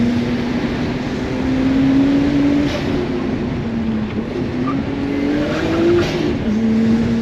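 Car driving fast on a rally road, heard from inside as a steady, loud engine drone with shifting pitch and rolling road noise, continuous with no talking.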